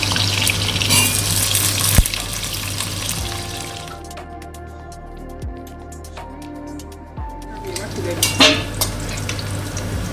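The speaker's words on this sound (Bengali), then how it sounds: "তেলটা দিয়ে দিলাম আমি আলুগুলোকে দিয়ে" Large cut potato pieces fry in hot oil in a kadai, giving a steady sizzle with stirring and light clinks of a utensil against the pan, close up; the sizzle eases briefly mid-way, then returns strongly.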